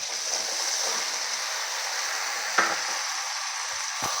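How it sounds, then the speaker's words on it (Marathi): Ridge gourd pieces stir-frying in hot oil with spices, giving a steady close sizzle with faint scrapes of stirring and a couple of sharper clinks. "हे चांगलं परतून घ्यायचं आहे ते दोडके त्यामध्ये छान असे हलवून घ्यायचे आहे"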